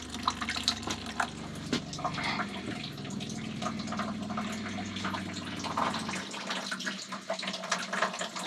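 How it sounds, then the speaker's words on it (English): Camper van water pump in a 2024 Ford Transit 250 conversion pushing water, a faint low motor hum under running, splashing and dripping water, the hum dropping away near the end while trickling continues. "Okay, the pump is pushing water."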